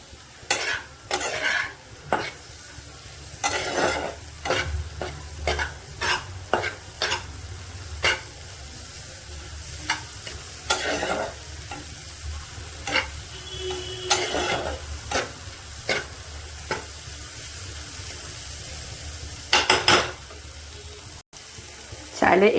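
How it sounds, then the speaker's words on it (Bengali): Egg and tomato frying on high heat in a pan, stirred repeatedly with a utensil, giving irregular scraping clicks over a steady sizzle, close and fairly loud throughout with no talk. "এবার ভালো করে গ্যাসটাকে বাড়িয়ে ভালো করে একটু নাড়াচাড়া করে নেব।"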